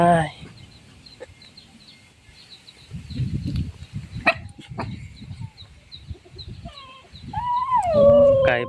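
Chickens on a Thai farmyard clucking in short scattered bursts close by, with a brief higher squawk near the end and a voice talking intermittently over them.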